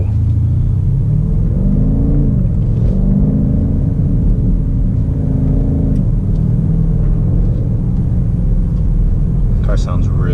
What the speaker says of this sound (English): Car sounds really good.